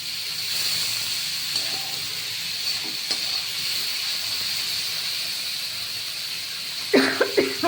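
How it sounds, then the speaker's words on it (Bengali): Two spoonfuls of sugar frying in oil in a pan give a steady, moderate hiss and sizzle, with a few light clicks and a burst of utensil clatter at the end. "চিনি দুই চামচ চিনি দিয়ে এটা ভাজবে"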